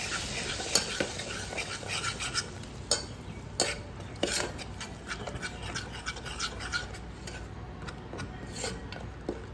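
A spoon stirring gram flour (besan) in a pan for Sindhi kadhi, with repeated scraping strokes against the metal in an irregular rhythm over a soft sizzle, close and fairly loud.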